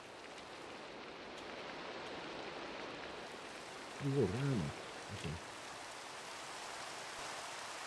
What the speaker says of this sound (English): Oh, you would start raining on me.